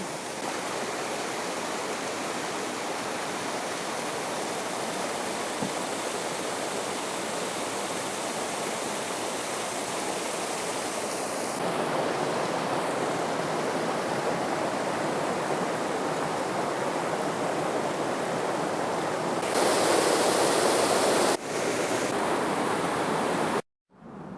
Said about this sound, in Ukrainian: І ось там водоспад, сад прогулянок.